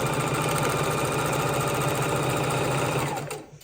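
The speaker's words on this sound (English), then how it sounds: "We're going to hold our 2 starter strings, and we're going to sew," A home sewing machine stitches a chain of quilt pieces for a four-patch baby quilt, whirring loud and close in a fast steady rhythm before slowing to a stop at the end.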